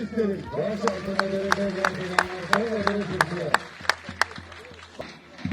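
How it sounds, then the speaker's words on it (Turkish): A crowd at a traditional Turkish wrestling event in Gönen claps in a steady rhythmic beat, the sharp claps cutting through a sustained tonal drone of voices or music. "öpülesi ellerimizden kocaman alkış"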